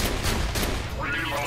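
A gun fires in rapid succession in Borderlands 2, a loud, dense burst of repeated shots running continuously through the whole moment, close and unbroken, with a faint trace of voice mixed in.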